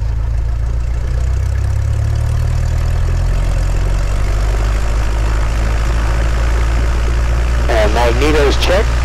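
Small single-engine propeller plane during a ground run-up at 1700 RPM, its loud steady drone holding constant and close, shifting pitch slightly early on, with a voice briefly speaking near the end.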